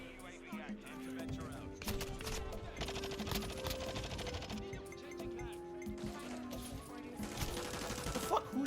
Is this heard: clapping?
no